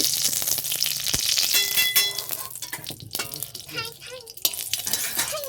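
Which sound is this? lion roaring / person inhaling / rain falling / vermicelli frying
vermicelli frying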